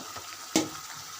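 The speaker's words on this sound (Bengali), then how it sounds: "এখানে আমি শুটকি দিয়ে কাঁঠালি বিচিটা মশলা দিয়ে ভালো করে কষিয়ে নিচ্ছি" Dried fish and jackfruit seeds frying with spices in a pan, a steady soft sizzle with one brief louder scrape of stirring.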